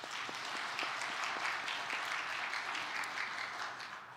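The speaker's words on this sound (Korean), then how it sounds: "우리 하나님께 영광의 박수 하겠습니다." Congregation applauding during a Sunday worship service in a church, a steady dense wash of many hands clapping together, moderately distant and sustained throughout without talk.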